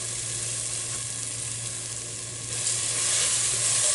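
Fried onion and masala sizzling in a pan while being mixed for egg biryani, a steady close hiss of frying that grows a little louder and brighter toward the end.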